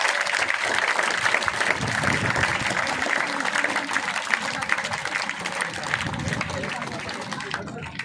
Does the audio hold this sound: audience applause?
yes